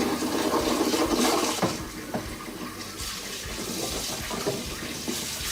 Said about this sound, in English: drain that and plunge the cold water on them.